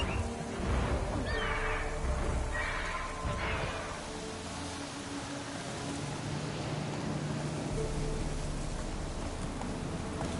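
Horse in The Witcher 3 whinnying as it is summoned, a brief neigh early on, fairly close, over steady rain-like ambient noise that continues alone afterward.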